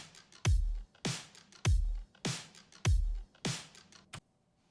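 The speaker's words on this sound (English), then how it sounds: "when I play the loop it sounds like this" Uncompressed drum loop, dry with no SSL channel strip compression, repeating a steady pattern of punchy kicks and bright snare or hat hits, about five hits before it stops, loud and alone.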